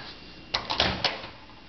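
A microwave door is handled and opened nearby, a few quiet clicks and clunks in quick succession against a near-silent background.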